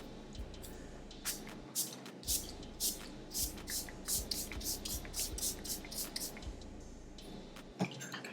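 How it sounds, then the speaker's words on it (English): A Milani Make It Last Matte setting spray is misted onto a face in a series of short, close, soft hissing bursts, some repeated in quick pairs, in a quiet room. "We're gonna use the Milani Make It Last Matte spray"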